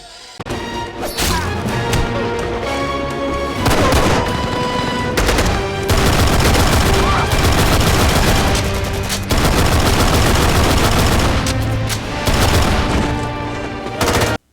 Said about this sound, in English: Fast shooting, reloading 1911 stuff.